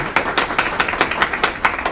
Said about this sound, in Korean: 발표해 주신 에멘탈 CTO 한승호 CTO님 다시 한번 박수 부탁드립니다